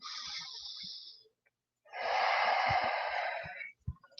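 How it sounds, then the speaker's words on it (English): During yoga practice a person draws a long, deep, airy breath, pauses briefly, then lets out a longer audible breath, close and breathy with faint thumps underneath. "One more deep breath."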